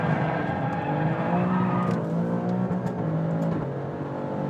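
Alfa Romeo Stelvio Quadrifoglio, a 503bhp 2018 SUV on Pirelli P Zero tyres, drives hard with a loud, steady engine drone and faint tyre noise as it slides slightly, continuous and close.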